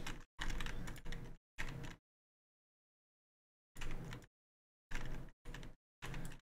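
Clicky keystrokes from a mechanical keyboard with Blue switches in short, close bursts: a quick cluster at first, then a long silent gap before several more brief runs of typing, with no voices.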